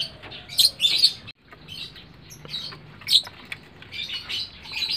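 Two young lovebird chicks in a breeding setup give high, thin chirps and tweets in short bursts, with some scratchy rustling between calls, close and moderately loud.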